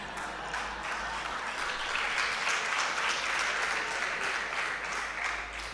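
Audience clapping at a university lecture at Makerere University, a dense, even wash of many hands applauding steadily throughout, heard from some distance and fairly soft.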